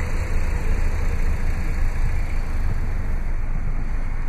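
A 2015 Dodge Journey crossover with a 2.4-liter dual VVT four-cylinder engine and four-speed automatic runs at a steady, close idle, a constant low rumble with no talking.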